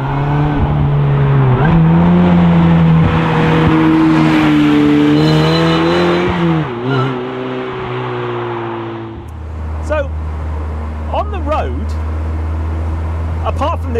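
An Ariel Nomad car driving at speed, its engine droning loud and close with rising and falling revs and gear changes, then settling into a lower steady hum with whining pitch sweeps, under intermittent talk.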